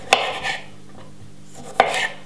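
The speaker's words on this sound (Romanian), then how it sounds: "eu le tai ca să ajut puțin blenderul" Vegetables for a raw zucchini spaghetti sauce being cut on a kitchen board before blending: two sharp, isolated knife chops about a second and a half apart, close and crisp, with quiet pauses between.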